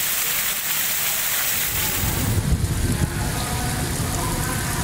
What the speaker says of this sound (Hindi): खैरपुर में भी जोरदार बारिश हुई।